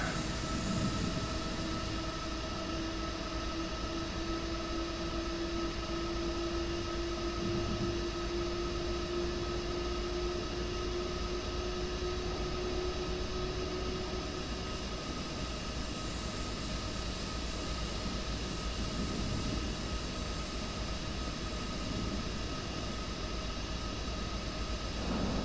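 A Deutsche Bahn Intercity 2261 train bound for München Hauptbahnhof rides steadily, a constant rumbling interior drone with a faint rising tonal whine, continuous and even throughout with no talking.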